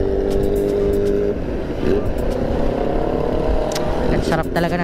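A Kawasaki ZX10R motorcycle engine revs on a group big-bike ride, a loud throaty roar that rises and falls, heard alongside traffic noise and people talking.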